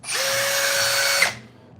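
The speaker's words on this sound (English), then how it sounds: "This drill's awesome. This is definitely my shop drill right here." A Metabo DS18DEX cordless drill whirs steadily at high speed for over a second, then winds down and stops, close and loud with no talking.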